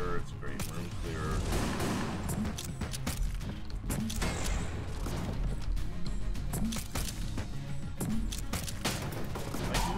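Scrambler gun firing rapidly in Enter the Gungeon, dense repeated loud shots and impacts with game effects layered throughout, a voice talking over it.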